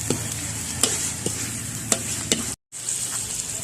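Field rat stir-frying in a pan with water just added, a steady loud sizzle with scraping stirring strokes at intervals and one brief dropout near the end, close and without talk.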